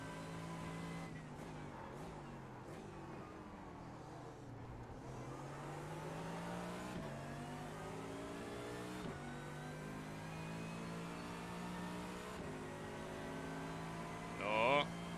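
A Mercedes AMG GT3 race car in iRacing at Spa-Francorchamps screams through its gears, the engine note rising and falling with upshifts and braking, with a brief tire squeal near the end.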